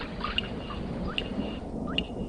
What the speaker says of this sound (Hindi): बिजलियां गिर रही थी, पानी टपक रहे थे,